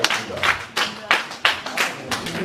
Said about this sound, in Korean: 예, 박수 한번 쳐주세요.